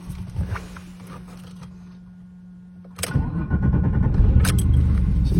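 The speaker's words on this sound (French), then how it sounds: "Ça me rappelle la BM ce démarrage." An Alfa Romeo 164 V6 cranks with a key rattle and starter whir, pauses briefly, then fires up into a loud, rough, steady idle close by.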